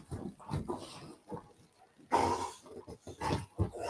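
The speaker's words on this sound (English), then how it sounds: "Love the puppy." A 14-month-old female dog makes a series of close grunting, snuffling and whining sounds in irregular bursts, with a louder burst midway.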